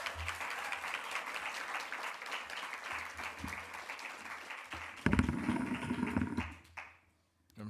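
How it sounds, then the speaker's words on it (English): An audience at a science and technology speaking competition gives students a sustained round of applause, dense steady clapping that briefly swells, then dies away to near silence. "Let's give all students a round of applause."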